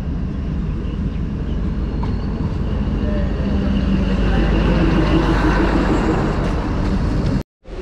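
A loud, continuous rumble of a diesel-hauled train arriving at Baramulla railway station, Kashmir, heavy low-pitched mechanical noise with faint voices mixed in, cutting off abruptly near the end.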